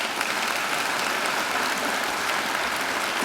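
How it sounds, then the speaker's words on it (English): A university graduation audience applauds the singer Angela, a dense, sustained round of clapping from a large hall, loud and even throughout. "I think Angela deserves another great round of applause."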